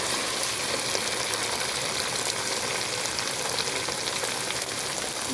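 Ginger, garlic and ground spices sizzle steadily in a hot pan for chicken biryani, a continuous dense frying hiss with no talk.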